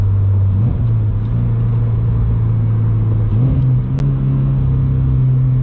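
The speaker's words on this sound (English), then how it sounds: "So having it to where it's not really droney, downshift sounds good." A 2022 Subaru BRZ fitted with a catback exhaust drones steadily and loudly through a downshift, the engine note stepping up in pitch twice as revs rise, heard up close with no voices.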